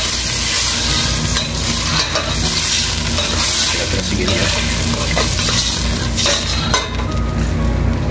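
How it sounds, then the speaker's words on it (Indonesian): A frying pan sizzles loudly and steadily as a little water is poured in and the food is stirred, with scraping and a brief voice speaking over the hiss. "akan saya tambahkan ini sedikit air ya, biar ada kuahnya sedikit"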